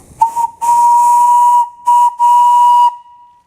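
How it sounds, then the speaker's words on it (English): A loud, close Lockenheimer steam whistle on a boiler blows in bursts, a brief toot then long shrill blasts with breathy hiss, ending in silence. "Here's another one, another Lockenheimer whistle"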